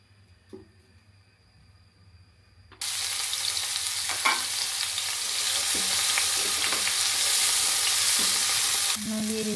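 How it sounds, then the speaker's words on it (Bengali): Oil in a frying pan bursting into a loud, steady sizzle a few seconds in, after a quiet kitchen start, continuing close and strong to the end. "ফ্রাই প্যানে দিয়ে দিচ্ছি সামান্য তেল।"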